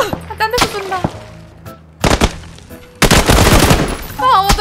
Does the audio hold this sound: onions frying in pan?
no